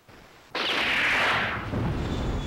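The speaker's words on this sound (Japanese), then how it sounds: "発砲したけど。 発砲した。" A single gunshot in the video game Suzuki Bakuhatsu: one sudden loud blast that hits after a quiet moment and then rolls into a long, rumbling decay.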